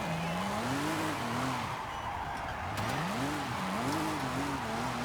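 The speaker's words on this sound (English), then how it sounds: "I do like this exhaust. I think it makes it sound much raspier and angry." A car with an aftermarket exhaust and turbocharger in Forza Horizon 5, its raspy, angry engine note rising and falling through revs with tire squeal, loud and continuous throughout.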